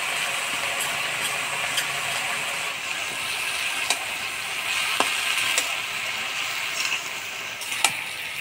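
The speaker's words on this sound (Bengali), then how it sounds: "এবার দিয়ে দেবো বাটা মশলা, রসুন বাটা আর লঙ্কা বাটা" Leafy vegetables fry in a pan with ground spice paste, garlic paste and chili paste, giving a loud, continuous sizzle, with a few sharp clicks of a utensil stirring and scraping close by.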